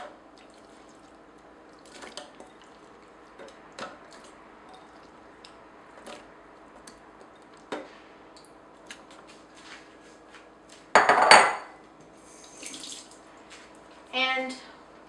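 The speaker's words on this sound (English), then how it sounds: "So now drain the dates." Soaked pitted dates being drained in a kitchen: faint drips and trickles of water with light clinks, then a short loud splash of liquid pouring off and a brief rattle near the end.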